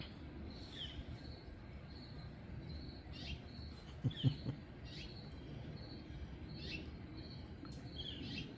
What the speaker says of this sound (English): Got a few interesting other bird chirps here.